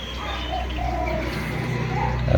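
Doves or pigeons coo in a small low-budget home aviary, soft repeated calls over a steady low hum, with a brief rise of noise at the very end.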